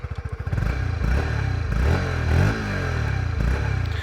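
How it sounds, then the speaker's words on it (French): Honda CB125R motorcycle with its exhaust running close by, a steady, clean-sounding engine note with a low throb that rises and falls slightly as it revs, quiet and discreet. "On va écouter un petit peu cet échappement."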